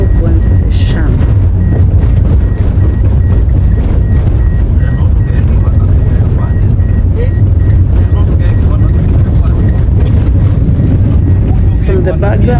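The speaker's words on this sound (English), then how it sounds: "So right now we are in a vehicle going to the shamba." Steady low rumble of a vehicle interior on the road to a farm in a traditional African village, continuous throughout, with people talking in the background.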